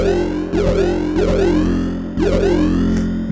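A Behringer 2600 synthesizer runs an inverted negative envelope that produces three repeated swooping, vowel-like tones, each a sweeping glide through bright harmonics over a steady low buzz, with no voices.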